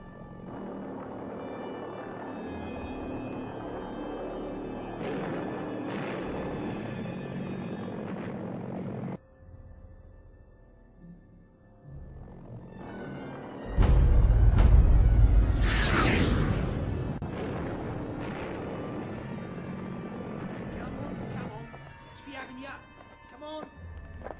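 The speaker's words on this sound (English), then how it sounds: "designed the first cruise missile, the V-1 Doodlebug" A V-1 Doodlebug cruise missile flies past with a loud rushing aircraft roar that swells suddenly midway and then fades, set among other layered sounds with a voice talking.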